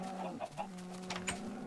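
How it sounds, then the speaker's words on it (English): Chickens in Minecraft cluck in a few short, soft calls over a low steady background hum. "I don't know why the chickens always burst to run out the gate"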